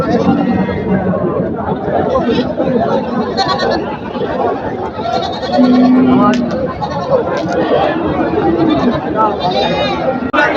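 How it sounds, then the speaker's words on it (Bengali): Goats bleat repeatedly at a busy rural goat market, with one clear loud bleat standing out amid constant crowd chatter and someone talking close by. "তো এই হাটে দেখতে পাচ্ছেন বিশাল বড় বড় কিন্তু ছাগল আছে, ছোট বড় সব ধরনের ছাগল আছে।"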